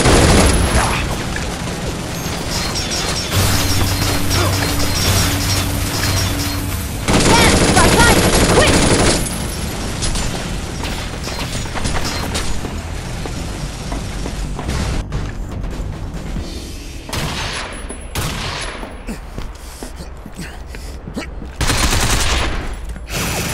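Bursts of rapid gunfire and booming explosions from the video game Binary Domain, loud and dense, with character voices speaking amid the combat.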